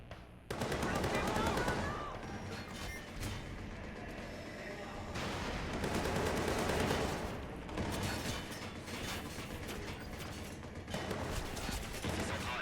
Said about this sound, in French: ça me tire dessus à moi